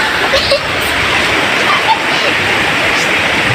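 A wide river flows steadily with a loud, constant rushing wash of water that fills the whole stretch evenly, close by, with faint voices mixed in.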